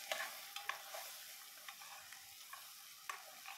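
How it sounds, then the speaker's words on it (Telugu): Ginger-garlic masala paste with turmeric fries in oil for an egg curry, giving a soft, steady sizzle with faint scraping stir sounds, quiet and close, with no talking. "ఇప్పుడు ఈ కర్రీ బాగా మనము నూనెలో మగ్గించాలి"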